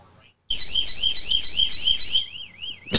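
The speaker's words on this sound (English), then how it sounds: "If I do turn on the alarm thing" Toucan security camera alarm: a loud, warbling electronic siren starts abruptly, holds for under two seconds, then fades into a softer wavering tone before a brief sharp burst.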